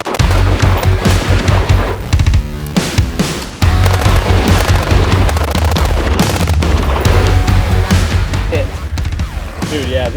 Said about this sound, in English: I just did a mag dump